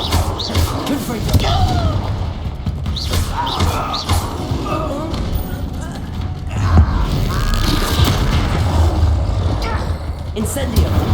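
Confringo blasting spells burst repeatedly during a duel in Hogwarts Legacy, dull thuds and booms recurring through the stretch over game music and effects, with voices speaking throughout.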